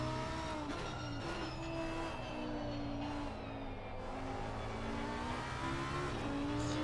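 A race car in Assetto Corsa Competizione at the Hungaroring gets short, choppy throttle stabs, its engine note rising and falling in uneven bursts, loud and close throughout with some tire noise.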